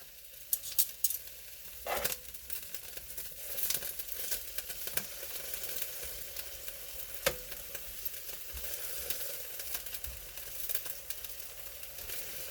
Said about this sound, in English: add a little bit of broccoli